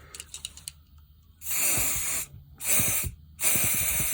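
Silicone sealant squirted from a tube, three long hissing bursts each lasting about a second, fairly close and loud, separated by short pauses after some faint handling clicks.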